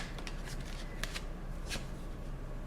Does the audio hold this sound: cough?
no